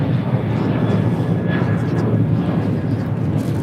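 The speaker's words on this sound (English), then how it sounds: "This is American Airlines Flight 613 taking off to Chicago O'Hare on a 737-800." An American Airlines Boeing 737-800 takes off at LAX, its engines a steady, loud broadband roar held without a break, with a thin whine riding above.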